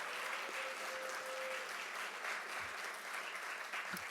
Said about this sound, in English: I just want to have another big round of applause for students